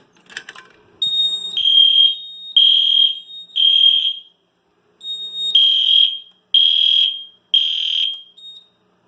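A FireShield fire alarm sounds during a system test in two bursts, each a few loud, piercing electronic tones pulsing in a steady rhythm, with a short silence between the sets.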